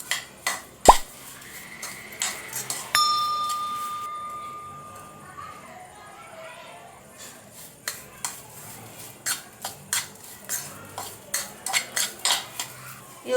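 Idli pieces being tossed and mixed with chili powder for podi idli, a run of irregular clinks and scrapes of a spoon against a metal bowl, close and fairly soft, with brief talk near the start.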